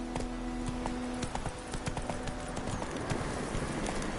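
Roach the horse galloping in the video game Witcher 3, a quick rhythmic clip-clop of hooves repeating steadily over a low ambient background, moderately close and fairly quiet.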